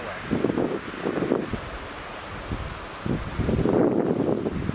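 Strong wind rushes through a forest outdoors, buffeting the microphone in loud irregular gusts with lulls between them, no voices.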